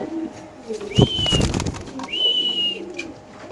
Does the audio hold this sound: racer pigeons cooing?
yes